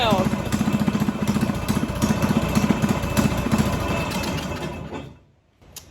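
A small outboard boat motor runs steadily at close range, its rapid, buzzing engine pulse holding loud and even before cutting off abruptly near the end.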